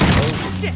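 Gunfire in a combat video game, a loud burst of shots at the start fading into a rumbling tail, with a voice underneath.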